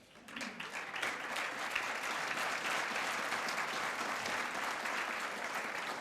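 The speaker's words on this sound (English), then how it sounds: "please stand, and we will applaud you as we can" Dinner guests at a distinguished alumni dinner applaud standing past presidents and board members, clapping swelling up within the first second and then holding as a steady, moderately distant ovation filling the room.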